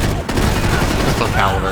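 Pistol gunfire in the video game Max Payne 3, a dense, loud burst of rapid shots and impacts filling the short stretch without pause.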